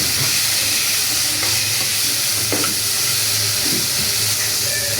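Spices with dried chili powder and four or five torn green chilies fry in a pan, giving a loud, steady, close sizzle and hiss throughout, with a few faint stirring scrapes and no voices.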